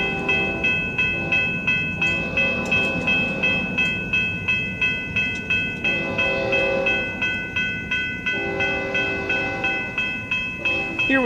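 A long FEC unit freight train, number 335, rolls past the Nottingham Blvd crossing with a steady rhythmic clatter of wheels over rail joints, its horn tones ringing over the continuous rumble, near and loud throughout.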